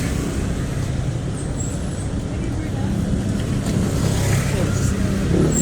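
Dense rush-hour traffic on EDSA, a continuous low rumble of idling and creeping vehicle engines close by, with a voice talking over the steady road noise.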